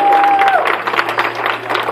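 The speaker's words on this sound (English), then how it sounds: "clap your hands one more time" A church congregation claps hands together during a service, a short burst of dense, lively clapping with a brief tone sounding at the start.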